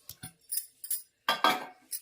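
Mutton pieces being mixed with homemade yogurt and spices for biryani, with a run of quick clinks and scrapes of a utensil against the vessel, close and fairly crisp, in irregular bursts.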